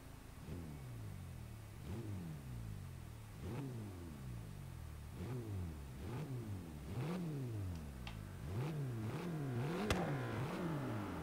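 A four-cylinder car engine in Forza Horizon 3 revs up repeatedly, about seven rising-and-falling pulls in steady rhythm that grow slightly stronger toward the end, heard alone and moderately quiet.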